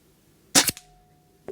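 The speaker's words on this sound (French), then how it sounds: "Donc, premier tir, en bas, je vais essayer de viser le centre." A single sharp shot from an air rifle at a target 30 metres away inside a caravan, loud and close with a brief echoing tail and a faint click just after.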